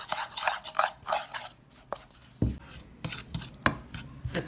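Chicken lollipop marinade with garlic powder and ginger powder being mixed by hand in a bowl, giving a run of close, uneven scrapes, taps and clinks with short pauses, and no talking.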